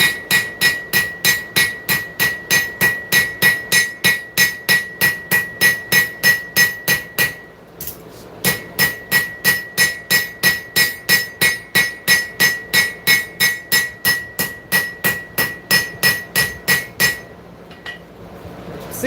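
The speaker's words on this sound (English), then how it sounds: "Start by working this heel out with a straight peen or a cross peen." A straight or cross peen hammer planishes a forged heel on metal, ringing with a steady run of evenly spaced sharp, bright strikes, close and loud, with a short pause midway and no talk.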